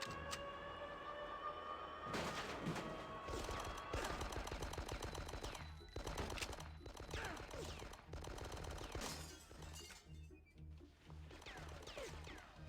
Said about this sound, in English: We just need to shoot him a few times in the head